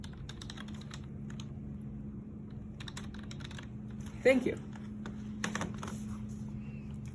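Soft keyboard typing clicks away in quick bursts over a low hum, with a brief spoken remark partway through.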